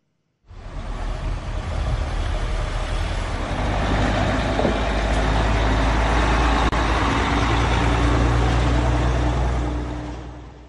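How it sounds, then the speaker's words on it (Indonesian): Heavy trucks from Egypt carrying heavy equipment roll into Gaza city during a ceasefire, a loud, sustained diesel engine rumble with steady low drone and road noise throughout. "truk-truk yang membawa alat berat dari Mesir memasuki kota Gaza, Palestina"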